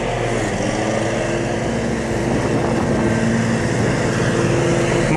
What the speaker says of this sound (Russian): Пошел сразу косить.